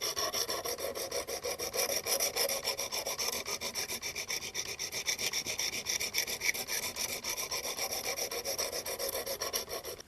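A knife blade drawn over the abrasive of a Work Sharp Precision Adjust sharpener, a steady rhythmic rasping stroke repeated rapidly and evenly at close range, with no voices.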